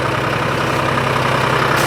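A Timberjack skidder engine idles steadily at close range, a continuous low rumble with even pulsing and no pauses, with no voices.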